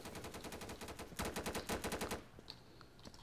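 Automatic gunfire in the video game Insurgency: rapid bursts of machine-gun fire, dense and loud for about two seconds, then tapering off into a few scattered distant shots, with no voices.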